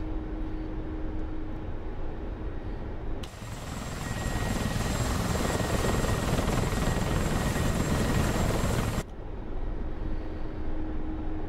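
A Mi-24 Hind attack helicopter flying in the DCS combat flight simulator, its loud steady rotor and turbine roar filling the scene and swelling louder and brighter for several seconds in the middle before settling back, with no talking.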